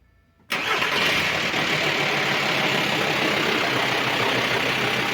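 Volkswagen T5 with a 2.5 diesel engine cranks and fires abruptly after a moment of quiet, then settles straight into a loud, steady, clattering idle close by.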